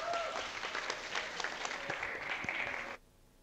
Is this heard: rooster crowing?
no